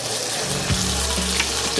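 Steak sizzles in a pan, a close, steady frying hiss with a brief pop or clatter partway through and a low hum underneath, with no talk.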